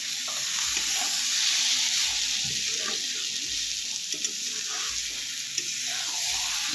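Cabbage greens with coriander leaves being stirred and fried in a pan, a steady close sizzle with soft scraping strokes repeating every second or so, no talking.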